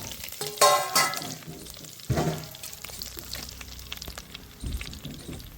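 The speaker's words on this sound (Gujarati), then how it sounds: "આપણે વઘાર કરી લેવું." Whole spices, including dried red chilli, bay leaf, curry leaves, star anise and cardamom, go into hot oil and crackle in a sharp burst of sizzling that settles into a quieter hiss with occasional clinks and stirring.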